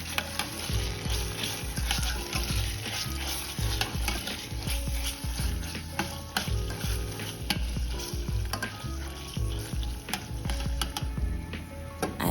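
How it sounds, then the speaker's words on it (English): Onions and tomato paste sizzle and crackle in a pot, with occasional stirring scrapes, steady and close, no voices. "After frying the tomato paste, I went in and added my chopped onions and let them cook"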